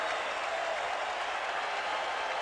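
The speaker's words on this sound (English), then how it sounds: "applause for the hitting star of the ball game, Greg Jeffries" Steady, sustained crowd applause fills a baseball stadium during the 1989 Cardinals versus Mets game, a dense continuous roar of clapping with no break and no talk over it.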